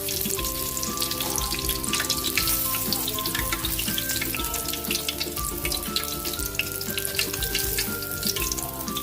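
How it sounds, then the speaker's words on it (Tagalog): Second batch of fried chicken frying in hot oil, a steady, dense sizzle and crackle filling the whole stretch with no talk over it. "Luto na yung ating second batch fried chicken."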